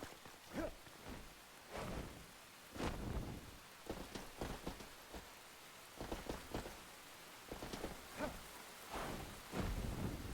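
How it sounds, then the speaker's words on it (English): Rain falling outdoors: a soft steady hiss runs throughout, broken by repeated dull thumps and rustling bursts, fairly faint and with no voices. "Kind of raining."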